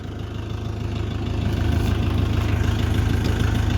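A DongFeng 404 DG2U mini tractor diesel engine runs steadily close by with a low, throbbing knock, and the rumble grows slightly louder and fuller partway through.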